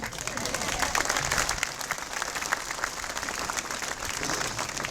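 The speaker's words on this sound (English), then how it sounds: "yeah, you can clap for that" A crowd at a Veterans Day ceremony at the New Jersey Vietnam Memorial applauds veterans outdoors, with sustained, thick clapping from many people and voices mixed in throughout.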